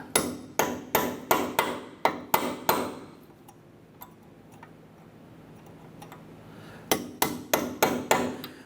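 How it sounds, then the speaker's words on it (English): Hammer striking a punch against the staked axle nut on a 2008-2012 Honda Accord, with a run of sharp, evenly spaced metallic taps, a quiet pause, then another fast series of blows. "I want to go ahead and use a punch. We're going to put it right in here. We're going to open up that spot."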